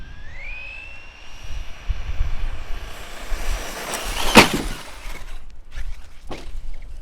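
A brushless Traxxas Summit RC truck on a 6S setup makes a jump outdoors: a loud high motor whine rises and holds, then a sharp crashing impact, followed by a few fainter knocks over steady wind-like noise.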